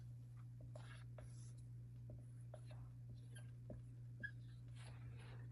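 Numbers 19 and 7 being written by hand during a children's math lesson on comparing numbers: quiet, irregular scratchy pen strokes in short bursts, close and faint, over a steady low electrical hum with no clear talking.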